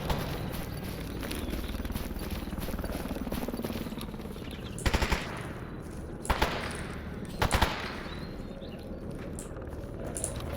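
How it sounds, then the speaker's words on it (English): Gunfire in the video game Stalker Anomaly comes as three brief, sharp bursts of shots, fairly distant, over a steady wash of ambient game noise. "There's shooting, but I'm not sure who's shooting who."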